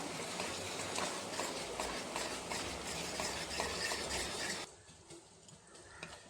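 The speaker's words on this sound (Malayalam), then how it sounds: "ഇട്ട് നന്നായിട്ടൊന്ന് ഇളക്കി കൊടുക്കാം" A spoon stirs kadala pradhaman, a chickpea pudding with added cardamom powder, in a pot. It gives a steady, rhythmic scraping and sloshing that continues for several seconds, then drops to a few quieter strokes.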